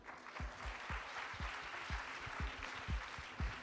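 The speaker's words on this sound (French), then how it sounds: "on peut les applaudir." Applause at an events-industry awards night in Lyon, a soft, somewhat distant crowd clapping with a faint rhythmic thump running underneath, moderately quiet throughout.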